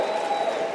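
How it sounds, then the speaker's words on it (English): A crowd applauding at a motivational talk, a brief, dense wash of clapping at moderate volume with no speech. "Give yourselves a round of applause."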